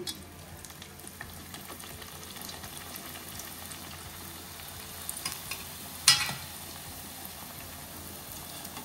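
Penilu (chiroti) sweets fry in a pan of oil with a continuous soft sizzle and bubbling, with a brief sharp scrape or clatter near the end.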